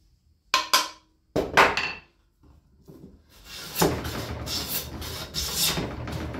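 Hand plane cutting through a knot while repairing and tuning a damaged plane iron: a few sharp scraping strokes near and loud, then a longer rasping pass of shaving wood.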